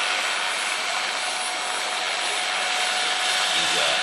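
A model Cobra military helicopter flies at a model flying club event, giving a loud, steady, whining rotor and turbine drone with a rising pitch sweep near the end.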